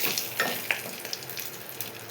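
Curry leaves and turmeric are stirred into hot tempering oil for ridge gourd peel chutney, giving a steady close sizzle and crackle with a few sharp pops and light stirring scrapes. No one speaks.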